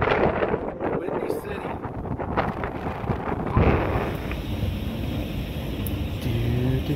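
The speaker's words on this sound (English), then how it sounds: "Okay, wind. You can let up anytime now." Strong wind buffets a driving car, with heavy low rumbling and gusty roar that stays constant throughout. It is loud and close, with road noise mixed in.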